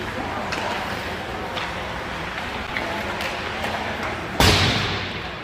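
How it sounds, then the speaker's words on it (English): Hockey pucks knock on the ice during pregame warm-ups at a youth hockey game, several faint scattered taps under a steady rink hum, followed by one sharp, loud thud near the end. "We're just throwing some pucks out on the ice now for warm-ups."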